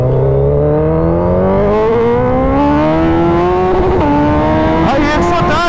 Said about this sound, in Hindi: अब फुल थ्रॉटल दूंगा